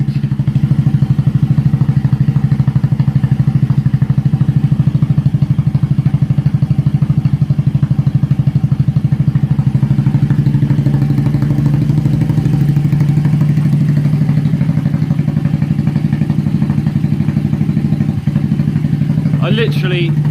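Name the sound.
scooter engine with aftermarket exhaust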